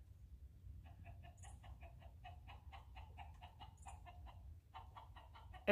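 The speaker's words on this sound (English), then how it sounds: "Chase the rooster for a second." A rooster clucks in a steady run of short, repeated calls close by on a farm, fairly quiet over a low rumbling background, with no talking.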